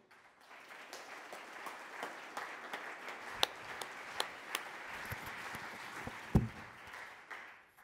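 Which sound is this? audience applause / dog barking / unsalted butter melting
audience applause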